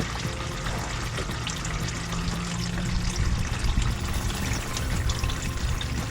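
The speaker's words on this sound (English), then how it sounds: "It's so satisfying listening to all that fluid drain and hit the pan, right?" Transmission fluid drains from a 2005 Ford Crown Victoria into a catch pan, a continuous close splashing pour that holds at an even level throughout, with no voices.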